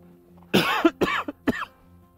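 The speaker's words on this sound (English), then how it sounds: "Excuse the cough." Close, sharp coughing: several short harsh bursts in quick succession, the last ones lighter, with quiet in between.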